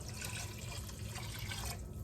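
Water, two and a half cups, pours steadily into a pot of crawfish etouffee, a continuous close splashing and gurgling rush that tapers off just before the end.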